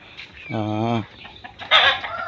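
Chickens waiting for food give a short, close, tonal cluck, followed by a fainter call and a brighter squawking burst near the end.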